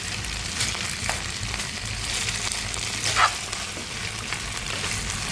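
Chicken wings frying with garlic in hot oil give off a steady, close sizzle and crackle throughout, with a few brief louder pops and stirring scrapes and no voices.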